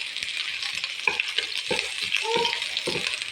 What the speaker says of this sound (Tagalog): gisa na natin tong sibuyas with bawang